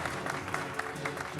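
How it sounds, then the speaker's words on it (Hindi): A crowd claps steadily and loudly throughout, a dense burst of applause with no pauses. "जोरदार तालियां बजाएं"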